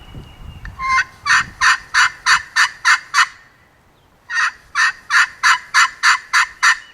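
A Jimmy Belles friction turkey call yelps in two quick runs of sharp, raspy clucks, about seven each, with a short pause between; close and fairly loud.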